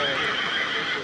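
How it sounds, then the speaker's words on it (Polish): A horse whinnies close by during a historical parade, the call filling the moment amid crowd noise. "Piękny koń, brawo dla konia."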